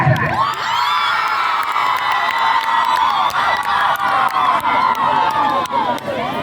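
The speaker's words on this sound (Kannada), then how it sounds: "ಒಂದು ದೊಡ್ಡ ಚಪ್ಪಾಳೆ ಬರಬೇಕು" A crowd applauds, cheers and whoops for a champion kho-kho team, loud and continuous, with clapping and children's shouts, and little talk beneath.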